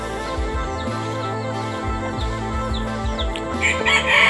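Chickens cluck and call close by, with repeated bantam rooster crowing notes rising and falling over a busy farmyard background.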